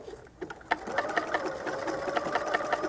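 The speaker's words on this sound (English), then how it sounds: "I'm just going to line that up with my presser foot and begin stitching." A sewing machine stitches a Madeira applique, starting with a few separate needle thumps and then running into a steady rapid mechanical whir, close and fairly quiet.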